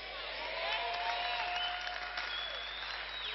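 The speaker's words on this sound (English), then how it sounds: "I thought a clapping of hands was better." An audience at a prophetic church conference applauds, a steady, moderately distant wash of clapping with voices audible underneath, heard through muffled, band-limited sound.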